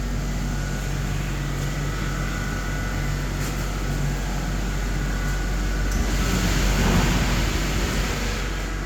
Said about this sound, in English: Citroen relay, diesel particulate filter cleaning in the machine.